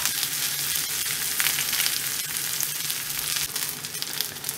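A Korean scallion pancake frying in hot oil in a pan just after being flipped, giving a loud, close, continuous sizzle and crackle with no talk over it.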